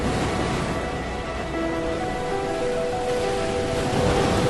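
Ocean waves washing onto the shore, a steady broadband rush of surf with no distinct breaks, constant and fairly close throughout.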